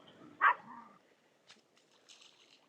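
A small pet dog gives a single sharp bark on a beach, followed by faint distant yips and rustles in a quiet outdoor setting.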